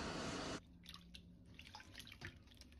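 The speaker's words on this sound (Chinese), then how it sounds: "再把蒜苗也放入水中清洗乾淨" Garlic sprouts are washed in water, beginning with a short burst of running water that cuts off, then soft splashing, dripping and sloshing as the leaves are rinsed by hand, close and quiet.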